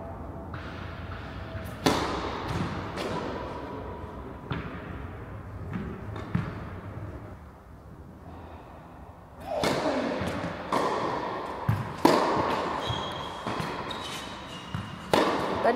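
Tennis ball struck hard on a serve and in rally play, a series of sharp, fairly loud thwacks and bounces spread through the stretch with crowd-like ambience, while commentators speak in French between the hits.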